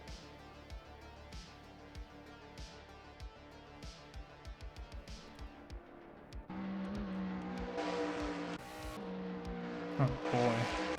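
NASCAR race cars circling Watkins Glen in a racing video game, engines droning with repeated gear-shift pulses at moderate level, then a louder, denser roar as more cars bunch up and accelerate.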